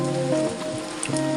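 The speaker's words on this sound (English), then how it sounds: "but it's raining outside, so we're leaving in a bit" Rain falling outside patters as a soft continuous hiss with scattered drips, heard indoors behind a steady low hum over a brief moment.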